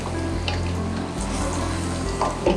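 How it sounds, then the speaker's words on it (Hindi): Chicken karahi with yogurt fries over high heat in a pan, giving a continuous close crackling sizzle with a low steady hum beneath and a few sharper pops near the end. "ये आप तेज़ आग पे भूनेंगे ताकि ये दही मीठी ना हो"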